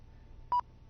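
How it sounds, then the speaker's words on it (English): A single short electronic beep, clean and tonal, sounds once against near silence. "you can hear the beep"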